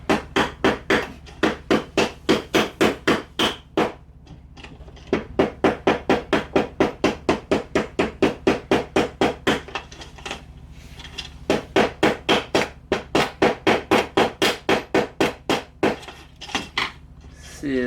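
Robot parts being tapped into holes during assembly of a Mini-Jules robot: dozens of sharp, rapid hard knocks in quick rhythmic bursts, close and loud, broken by short pauses.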